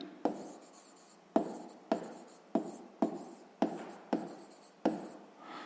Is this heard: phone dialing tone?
no